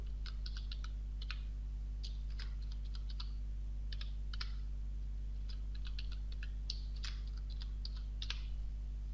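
Keys tap on a computer keyboard as a password is entered, quick irregular clicks in short bursts over a steady low electrical hum.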